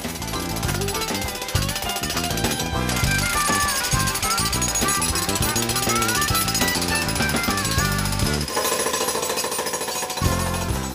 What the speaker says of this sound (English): Step one is to jackhammer a narrow trench around the perimeter of the basement next to the wall.